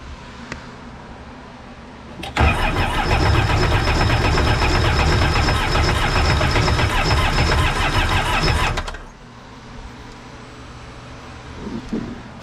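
Engine on a 2021 Sea-Doo RXP-X jet ski trying to start: after a quiet stretch it catches abruptly and runs loud and steady for about six seconds, then cuts off, leaving low background noise.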